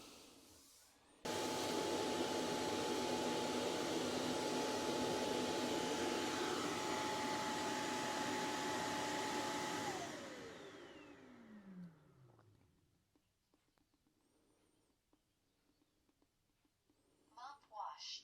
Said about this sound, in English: Starting to wash them up. No problem docking.